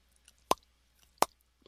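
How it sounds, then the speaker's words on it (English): Chiropractic joint adjustment with the joint capsule opening: two quiet, crisp pops less than a second apart in an otherwise still room. "It's the joint capsule just opening."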